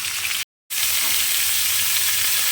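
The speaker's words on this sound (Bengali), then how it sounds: "এবার তাহলে ফুলকপিগুলো লাল লাল করে ভেজে নেব।" Cauliflower florets fry in hot oil with a dense, continuous sizzling hiss, close and loud, broken by a brief full silence early on before the frying resumes unchanged.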